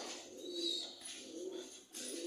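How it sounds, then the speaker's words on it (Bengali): Pigeons kept in a room coo softly, with several low, rolling coos rising and fading over a faint background, close by but quiet, and no one speaking. "দেখেন উড়তাছে কতগুলো কবুতর"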